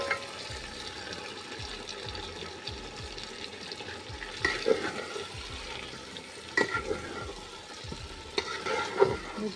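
Chicken sautéing in a cooked-down spice paste with oil, a steady sizzle broken by repeated scraping stirs and a few louder clatters of the spoon against the pan.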